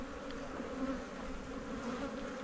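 A dense swarm of honeybees drones around an opened colony in an educational apiary, the buzzing near, even and unbroken for the whole stretch, with no voices.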